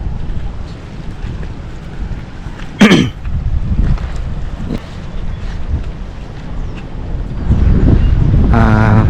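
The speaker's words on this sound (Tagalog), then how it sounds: "Medyo malakas lang yung hangin dito minsan" Strong wind buffets the microphone at a riverside campsite, a constant low roar with gusts that swell louder near the end, alongside a brief sharp knock and a faint human sound.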